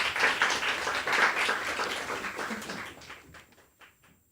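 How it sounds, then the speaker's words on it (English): An audience applauds a poet at a Latine poetry reading, a steady patter of many hands that thins out and fades toward the end, leaving a few scattered claps. "Please give a round of applause to Jen Cheng."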